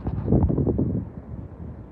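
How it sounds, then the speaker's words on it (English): Wind gusts across a hiking trail, a steady low rushing that swells loud early and then eases off to a softer, continuous blow. "It's windy again"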